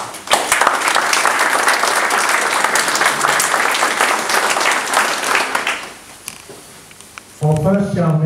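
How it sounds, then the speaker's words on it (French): Dense, loud audience applause fills a firefighters' Sainte Barbe ceremony in 2023 for about six seconds, then thins and fades, and a voice starts speaking near the end. "vous pouvez les remercier et les applaudir."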